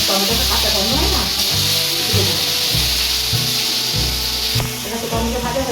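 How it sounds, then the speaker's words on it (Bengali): Tomato fries in oil with dried red chilli and a torn bay leaf, giving a steady close sizzle broken by regular rhythmic scrapes of a spatula stirring the pan. "টমেটোটা একটু ভালো করে ভেজে নিই"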